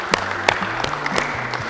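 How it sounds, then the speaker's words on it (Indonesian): At a palm-oil seminar, the audience gives scattered claps for Dr. Tungkot Sipayung of an agribusiness policy institute as he is introduced. A handful of sharp, separate claps ring out over a steady low hum from the room. "Boleh kita berikan tepuk tangan yang luar biasa."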